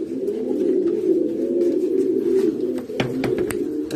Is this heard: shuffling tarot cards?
no